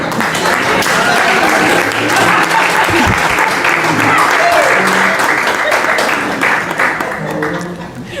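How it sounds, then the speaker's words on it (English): A large audience rises for a standing ovation, filling the room with dense, sustained applause and crowd murmur that holds steady throughout and eases slightly at the end. "let's rise up and give her a round of applause"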